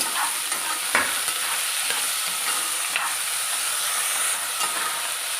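Green chilies and two small tomatoes fry in a pan for a cabbage and potato curry, with a constant close hiss and sizzle punctuated by a few soft clacks.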